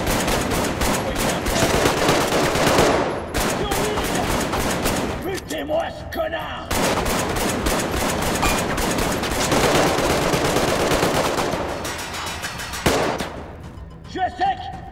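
Rapid automatic gunfire from the ARKTIKA.1 video game, with long dense bursts that break off briefly and resume, loud and close throughout.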